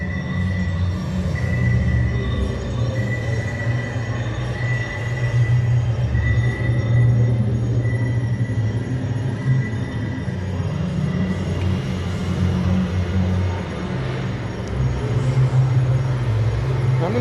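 The Ice Breaker roller coaster at SeaWorld Orlando, testing with two trains, rumbles along its track in a steady low roar, with faint rattling and clatter, heard from a moderate distance.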